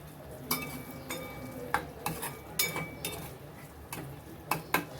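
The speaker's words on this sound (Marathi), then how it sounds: "हे किसलेलं आलं पण आपण याच्यात घालतोय हे पण छान परतून घ्यायचं" Grated ginger sautéing in a pan for a turmeric halwa, with a faint sizzle under scattered sharp clinks and scrapes of a utensil stirring against the pan.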